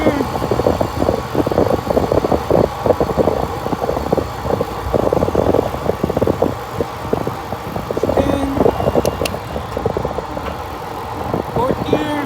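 Lectric XPremium e-bike motor running on throttle in third gear, a steady mechanical whir with rhythmic pulsing and rattle, fairly loud and continuous, with a brief higher tonal whine near the end.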